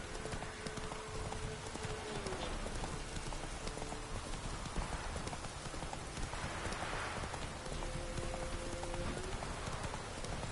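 Roach the horse's hooves in The Witcher 3 clip-clop in a steady walking rhythm through the whole stretch, mixed with a soft rain-like hiss and faint sustained tones.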